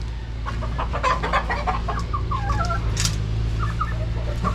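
Gamefowl chickens in a breeding pen with an imported Kelso broodcock, clucking steadily at close range over a constant low hum throughout.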